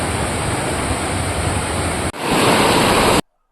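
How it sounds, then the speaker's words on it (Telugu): Jalatarangini waterfall at Maredumilli roars as a steady, loud rush of falling water with no voices, briefly dipping before surging again and then cutting off abruptly. "water falls number 3"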